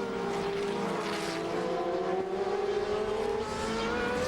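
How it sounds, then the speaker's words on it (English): A GP2 race car at Great Britain in 2007 howls past on track, a loud sustained engine note rising slightly in pitch across the pass with no speech over it. "It's Nakajima in the red and white car."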